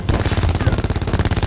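Rapid automatic gunfire in the video game Prop Hunt, a loud, fast string of closely spaced shots that hammers on without pause for a second and a half.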